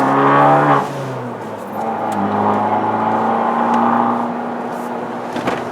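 Small Fiat car cruising in sport mode, a steady engine hum with a rising rev at the start and a long, even drone through the rest, heard from inside the cabin.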